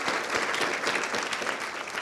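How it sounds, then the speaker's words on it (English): An audience applauds together in a dense, continuous burst of clapping that stays full and close for the whole two seconds. "I think we ought to give them a round of applause for making this possible."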